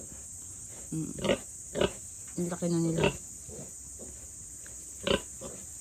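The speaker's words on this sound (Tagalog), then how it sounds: "Yan yung mga baboy namin guys." Pigs on a provincial Philippine farm grunt and squeal in short bursts nearby, over a constant shrill insect-like hiss, with a person briefly speaking between the grunts.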